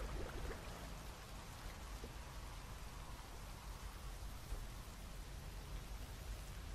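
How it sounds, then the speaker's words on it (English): Light drizzle of rain in the game Rain World, a steady soft hiss of fine drops pattering without pause, even and fairly quiet throughout. "Well, it's a light drizzle, you might say."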